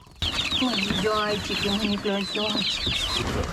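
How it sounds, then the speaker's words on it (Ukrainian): Chickens clucking and squawking close by, a busy cluster of short calls with a faint voice mixed in. "Веземо і курей, курчати, качок."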